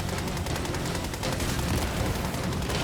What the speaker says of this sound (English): They actually make the assault rifle sound so beefy.